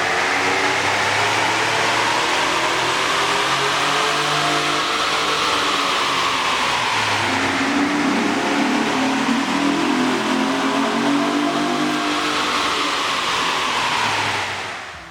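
A Chevy Colorado or GMC Canyon 3.6L pickup engine with a K&N air intake revs hard and continuously, the roar rising and falling through several throttle swells, loud and close, with no voices.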